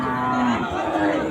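A cow moos loudly and close by at a busy cattle market in Chandaikona, with a low crowd murmur behind it.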